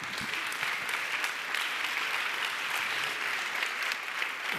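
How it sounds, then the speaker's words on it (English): Applause from the audience at a Berlin live talk on the automotive industry, steady dense clapping at moderate level with no voices, sustained for the whole stretch. "Thank you very much for that applause"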